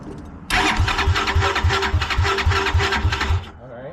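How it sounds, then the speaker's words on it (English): A 250cc go-kart engine cold-starts in the morning, catching abruptly and running with a fast, rough, pulsing beat for about three seconds before cutting out, loud and close. "let's see if it will just cold start in the morning."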